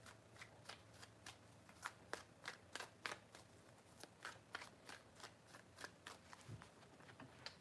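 Tarot cards are riffled and shuffled by hand in a quick, regular run of crisp flicks, quiet and close, with no talking.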